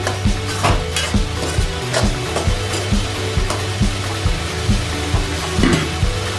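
Vegetable masala Maggi noodles being stirred in a pan, with a steady sizzle and repeated rhythmic scraping strokes of a spoon against the pan, close and with no talk.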